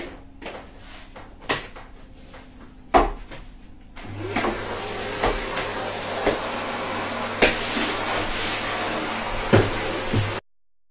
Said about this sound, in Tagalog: So, mag-vacuum tayo.